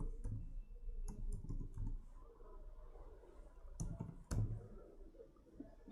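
Keys tapped on a computer keyboard while a terminal command is entered during a Laravel and Firebase setup, sounding as sparse, light clicks with a few sharper taps over a low background hum.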